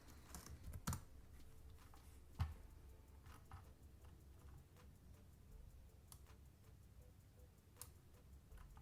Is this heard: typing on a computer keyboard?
yes